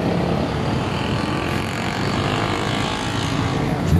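Yamaha Mio 180cc scooter engine with a 68mm Raider bore kit, kick- or hand-started and running loud and steady nearby, a dense rough drone filling the whole stretch with no talk over it.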